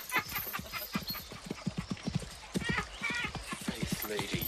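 Horse hooves clip-clop at a steady, rhythmic pace, close and continuous throughout, in a medieval-style audio drama scene with a knight's horse.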